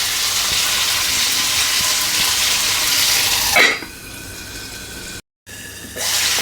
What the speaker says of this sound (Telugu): కొంచెం వాటర్ వేస్తున్నా